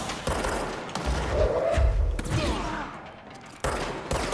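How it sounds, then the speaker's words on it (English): Enemies in the video game Control fire guns in bursts, sharp cracking shots and thumps scattered over a dense rumbling background of combat noise. "I did not know these dudes could fire at me like that."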